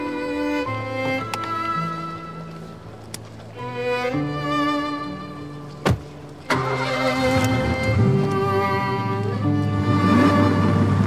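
A car engine starts: a cranking whir, then a catch into a rising rev, settling into a steady idle with a sustained hum under light harmonic background tones.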